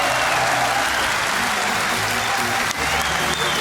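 Large arena crowd at the Dreamhack Winter 2014 esports event applauding and cheering continuously, a dense steady roar of clapping with a brief dip near the end.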